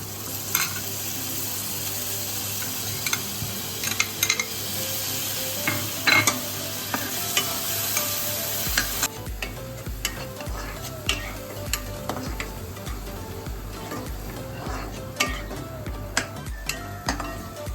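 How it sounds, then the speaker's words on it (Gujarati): Crushed onion fries in hot oil for a veg Hyderabadi biryani, with a steady close sizzle and repeated scraping and stirring clinks of a spoon against the pan throughout. "હવે આપણે ડુંગળી છે ને થોડી બ્રાઉન થવા દેશું"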